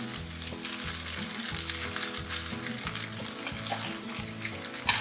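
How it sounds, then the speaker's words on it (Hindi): Chicken, vegetables and spaghetti-style noodles frying together for chicken chowmein, a steady loud sizzle and hiss over a low rhythmic hum in the background. "इसके साथ हम इसके अंदर डालेंगे चिकन और उसके साथ हम इसमें डालेंगे सब्जियां।"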